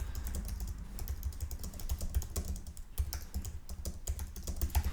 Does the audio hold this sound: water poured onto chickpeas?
no